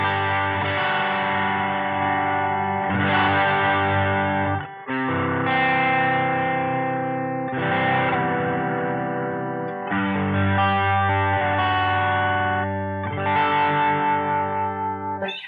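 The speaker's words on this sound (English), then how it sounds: "Has a really nice transparent overdrive. It's responsive to. The more you push it, the more it breaks up." Electric guitar played through a Movall Black Widow overdrive pedal set low, sustained chords with mild transparent breakup ringing out continuously and loudly, with brief pauses between strummed phrases.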